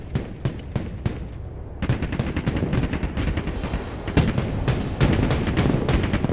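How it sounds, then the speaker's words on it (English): Gunfire from troops in the real-time strategy video game Broken Arrow, dense overlapping rifle and machine-gun bursts crackling in rapid irregular volleys with heavier thuds, continuous and loud throughout. "Troops have engaged the enemy."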